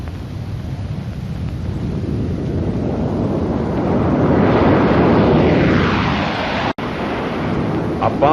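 Boeing B-47 Stratojet jet bomber flying, a steady loud jet roar that swells and sweeps past around the middle, with a brief dropout near the end.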